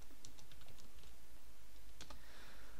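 Someone types a short search term on a computer keyboard, a few quick soft key clicks spread across a quiet room.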